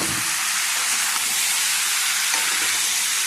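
Fried potatoes hit a pan of sautéed spices for a pointed gourd and potato curry, a loud continuous sizzle and hiss, close up with slight surges, and no voices.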